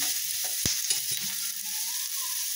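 Turmeric stirred into sprouted moth beans frying in a pan gives a close, continuous sizzle with a spoon scraping and stirring through it, including one sharp knock against the pan.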